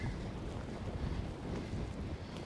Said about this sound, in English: the wind's really got up now